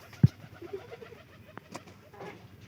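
Newly market-bought pigeon, a faint soft coo and a few low bird sounds amid light handling noise and quiet background, close but subdued.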